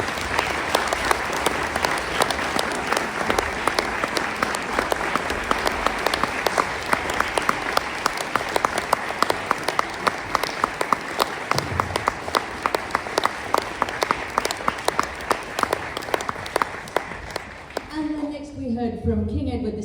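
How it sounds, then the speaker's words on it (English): Audience applause for a school clarinet choir fills the hall, a dense, steady clapping that runs loud and unbroken for most of the stretch before tapering off as a voice begins speaking near the end. "Let's make a round of applause to them."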